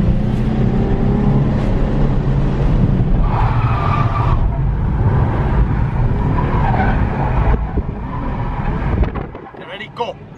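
Nissan 350Z cars drift at a Drift Games Experience, with loud engines revving and tires squealing and skidding for several seconds, then the noise cuts off as people begin speaking.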